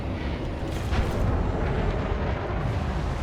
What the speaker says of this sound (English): This frag cannon's pretty cool when you're up close.